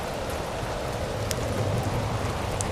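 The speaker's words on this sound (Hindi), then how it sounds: "बारिश मूसलाधार हो गई और ओलावृष्टि शुरू" Steady, dense torrential rain pours down with a constant hiss, and a couple of faint sharp ticks of hail stand out above the downpour, in a cartoon.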